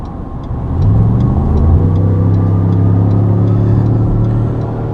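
A 2019 Ford F150 Limited pickup accelerates hard to pass, heard from inside the cab. The engine drone climbs steadily and swells louder, with no talking.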